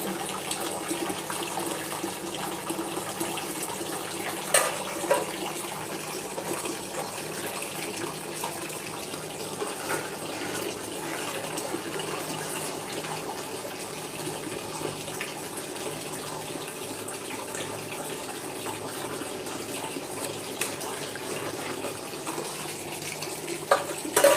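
An automatic fill from a household tap keeps water pouring in a continuous, even gush, with a few faint clicks scattered over the steady flow.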